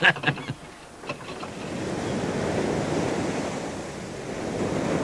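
Ocean waves wash and roll during a sea crossing, a loud, continuous surge blended with wind noise that builds after a few sharp knocks at the start.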